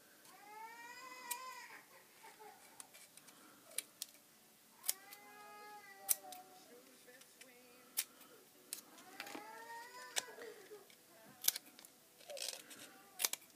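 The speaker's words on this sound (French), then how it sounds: "Donc vous allez couper tous les petits rebords ici." Small scissors trim the little paper edges for a handmade mini album, giving sharp, separate snips at irregular intervals, with repeated cat-like meowing cries over a quiet background.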